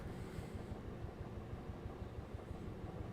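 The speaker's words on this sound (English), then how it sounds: "The trolley being on the wire and the air brake pump now and then throbbing beneath the floor." A streetcar trolley rides the overhead wire, its air brake pump throbbing beneath the floor: a steady low rumble with a rapid pulsing thump, continuous and fairly faint, no voices.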